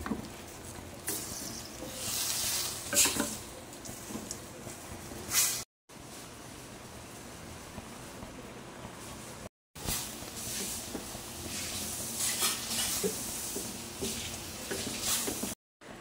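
Shrimp in a white wine sauce are stirred in a hot pan, producing a continuous close hiss and sizzle with soft scraping swells, broken by two brief silent gaps.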